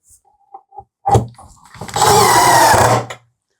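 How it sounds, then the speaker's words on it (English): A power drill drives pocket screws into a wooden table piece: a few light taps and a short whir, then a loud, steady, close-up whine that runs for about a second before stopping. "Awful lot of pocket screws into this piece"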